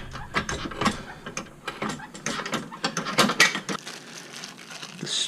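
A spring compressor is jacked down on a third-generation Camaro strut spring, making close, irregular mechanical clicks and ratcheting taps in quick runs, with no talk.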